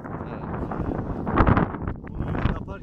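Wind gusts buffet the microphone on an open hilltop beside a village flagpole, a loud continuous low rumble that peaks in a strong blast midway.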